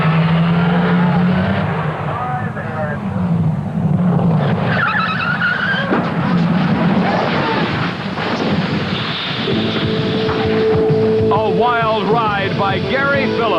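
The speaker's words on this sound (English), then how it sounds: "By Gary Phillips in a qualifying attempt in Funny Car Eliminator." Loud, roaring Funny Car drag racing engines screaming down the track at the 1986 NHRA Springnationals qualifying, with tire squeal and rumble, a commentator talking over the din.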